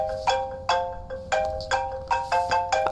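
An iPhone rings loudly and close by, its bright melodic ringtone phrase repeating in regular bursts with no voices over it.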